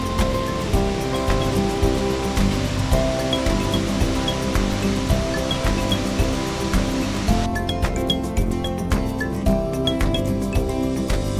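Lone Creek Falls waterfall along the Panorama Route in South Africa, a loud, steady rushing roar of falling water, close and continuous with no talk.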